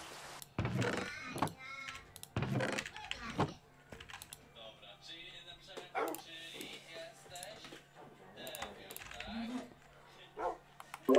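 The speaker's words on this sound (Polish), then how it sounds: "mamy dwa psy" Two dogs bark in a Minecraft game, sharp repeated barks and yips early on and then sporadically, mixed with clattering computer keyboard typing while people talk throughout.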